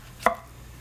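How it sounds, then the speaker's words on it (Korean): Two crisp knife strokes chop a zucchini on a cutting board for potato sujebi, each a sharp close thunk with a brief pause between, no talking. "요거 그냥 뚝뚝뚝 잘라 넣자고요"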